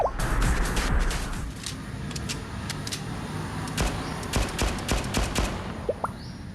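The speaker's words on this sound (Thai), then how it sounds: "เสียงปืนเสียงรองเท้า อันเป็นเอกลักษณ์" Rapid gunfire bursts from a Blue Archive shooter game session, sharp clustered shots with mechanical clatter and footsteps, moderately loud and close, with no voices over them.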